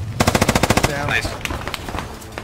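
Rapid bursts of automatic gunfire in the Squad military shooter with British forces, a loud rhythmic string of about a dozen shots followed by scattered single cracks and distant fire.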